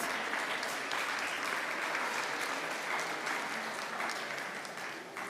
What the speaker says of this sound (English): Let's hear a round of applause for all of our young ones.